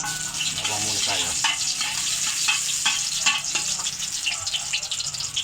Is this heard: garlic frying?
yes